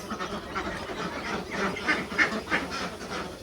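Itik Pinas ducks at a duck farm: a flock quacking in short, overlapping calls at moderate distance over a steady background murmur.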